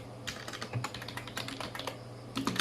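Quick, steady keystrokes on a computer keyboard as a PHP variable name is entered, the clicks close and fairly quiet, with a fresh flurry at the end.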